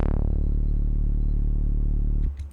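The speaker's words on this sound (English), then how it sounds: "I'm going to go to Retrolog now and compose a really epic 1-note melody" A single sustained low synth note from Retrologue in Cubase drones loudly with a steady pulsing buzz for about two seconds, then cuts off abruptly, heard alone.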